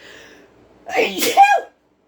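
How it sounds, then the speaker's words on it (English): A single close, sharp sneeze bursts out after a moment of faint background, preceded by a quick intake of breath, then silence. "I'm going to sneeze."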